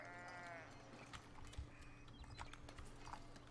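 In the video game Foundation, a sheep bleats once near the start, faint and soft, over a quiet rural backdrop with light hoof-like clatter and low ambient noise.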